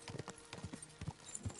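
Horse hooves clip-clopping in the video game Kingdom Come Deliverance 2: a steady, rhythmic trot of hollow thuds at moderate distance, fairly quiet, with no talking.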